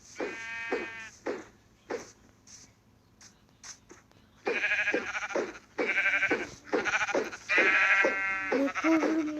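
Sheep in a survival video game bleat repeatedly, a few short cries early on and then a run of louder, drawn-out bleats toward the end, with no voices over them.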